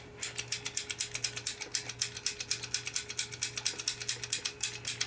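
A 1976 Bally Old Chicago pinball spinner mechanism, freshly rebuilt, whirs through rapid, evenly spaced mechanical clicks that slow slightly over time, close and clear over a faint steady hum.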